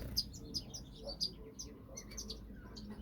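A pet fawn-colored bird chirps in an aviary, a quick run of high, bright tweets in short bursts over soft background noise, fairly close.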